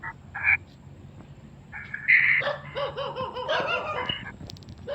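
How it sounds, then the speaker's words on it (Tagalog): A dog barks in Tagaytay, Cavite, several scattered barks at a moderate distance, mixed with croaking frogs and steady outdoor night noise. "May aso dun."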